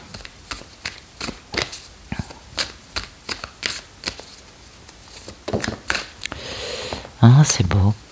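Oracle cards are shuffled by hand in a quick series of crisp riffling flicks, close and fairly quiet, with a brief soft voice sound near the end.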